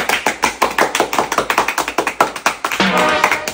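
A small group of people claps on cue after a three-count, producing a quick run of close, sharp hand claps that spread into loose, overlapping applause lasting a few seconds.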